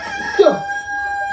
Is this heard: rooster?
yes